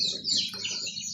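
Young Adler chicks at a poultry seller's give brief high chirping peeps over a low background murmur, close by and fairly soft.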